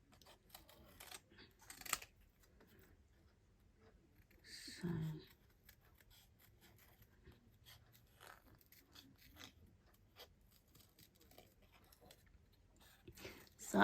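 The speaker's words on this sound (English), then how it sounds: "So I'm just cutting just carefully around it." Scissors snip carefully around a paper card, quiet close clicks and cuts scattered sparsely across a soft room background with no voice.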